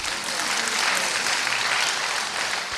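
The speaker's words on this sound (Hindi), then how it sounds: "अब अपने लिए आप ताली बजाओ क्योंकि आप सब पास हो गए" A group of listeners at a spiritual talk claps together in a steady, full round of applause, dense and even throughout with no talking over it.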